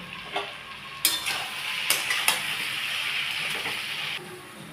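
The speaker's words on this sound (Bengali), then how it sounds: "এবার আমি এগুলোকে ভালো করে কষিয়ে নেব।" Diced potatoes and pointed gourd are stirred with spices and salt in a hot pan, a steady sizzle broken by a few sharp scrapes and clinks of the spatula, close by with no talk.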